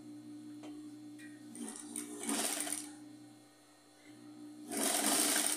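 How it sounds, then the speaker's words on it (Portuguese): A sewing machine stitches strips of fabric scraps for a rug. It runs in two loud close bursts, and a quieter, hum-filled pause sits between them. No one speaks. "Aí eu venho e costuro ela aqui."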